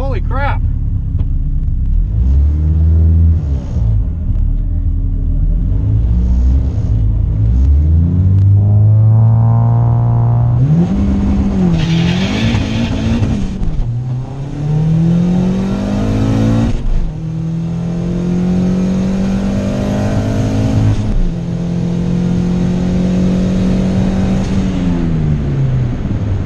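A cheap Honda race car engine revs hard and accelerates through the gears at a racing event, loud and close, with rising and falling pitch sweeps, a deep rumble and sharp shifts throughout.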